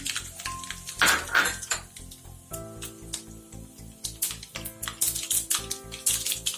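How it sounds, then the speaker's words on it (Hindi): Mustard seeds crackle and pop in hot oil in a pan, sharp irregular close spits and snaps coming in bursts, with no voices. "अब हमारा तेल गरम हो चुका है, उसमें राई डाल देते हैं"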